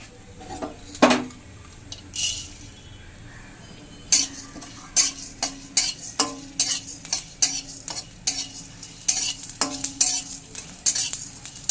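Whole coriander, cumin, peppercorns, cloves, cardamom, cinnamon and nutmeg are dry roasted in a pan, with a quick series of rattling scrapes and clicks from a stirring spoon over a faint background hiss.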